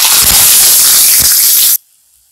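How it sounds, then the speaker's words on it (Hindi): Chopped onion dropped into hot oil with crackling cumin seeds in an Indian egg katli recipe, a loud continuous sizzling hiss that cuts off abruptly after nearly two seconds. "प्याज को हम सॉफ्ट होने तक भूनेंगे।"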